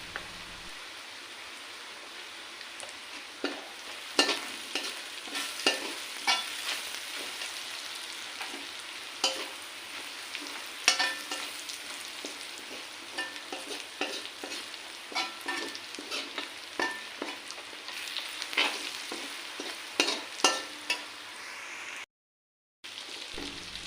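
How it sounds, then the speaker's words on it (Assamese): A chicken curry base fries with turmeric powder in a pan, giving a steady quiet sizzle broken by frequent clicks and stirring scrapes, with a brief gap near the end and no voices. "এইখিনি ভালকৈ ভাজি লোৱাৰ পিছত এতিয়া মই ইয়াতে দিছোঁ হালধি গুড়ি।"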